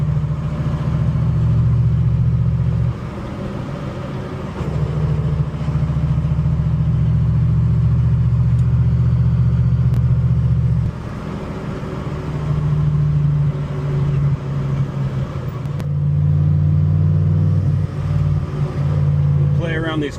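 A Datsun 240Z engine hums steadily with low rumbling that rises and eases as it drives a mountain pass road and takes corners, with occasional faint talk underneath.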